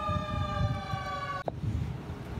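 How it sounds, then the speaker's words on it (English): A siren wails steadily in the distance, its tone holding level before a sharp break, with low rumbling background noise throughout. "Sirens."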